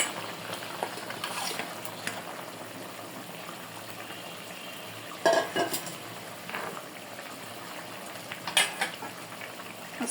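River fish fry in a pan with winter vegetables, heard as a low, steady sizzle and bubbling with a few sharper clatters and spatters, nearby and without talk.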